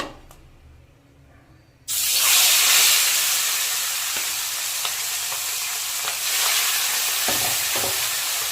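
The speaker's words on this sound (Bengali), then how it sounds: "এবার আমি মাছগুলোকে হালকা হালকা ভেজে নেব।" Pangas fish pieces hit hot mustard oil in a wok with a sudden loud burst of sizzling, after a quiet start, then a steady close frying hiss with faint stirring clicks.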